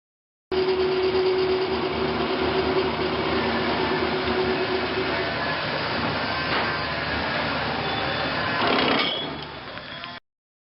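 A milling machine does deep milling work, a loud continuous mechanical grinding and whirring with a sustained tone in the first half, a rising burst near the end, then a quick cutoff.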